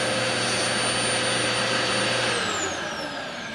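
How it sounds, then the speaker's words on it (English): Dyson Constant Max DC04 upright vacuum cleaner, UK import, running with a steady loud motor roar and a sharp high-pitched whine, tapering slightly near the end. "nice and quiet, but still has the kind of classic high-pitched whine that a lot of Dysons have"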